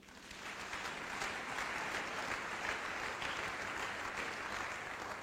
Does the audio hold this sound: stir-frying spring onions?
no